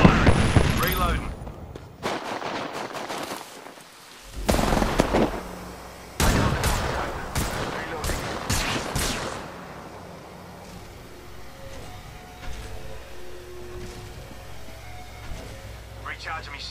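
Gunfire in a shooter video game, with several loud bursts of shots close together, gaps of quieter ambience in between, and a faint electronic hum trailing afterward.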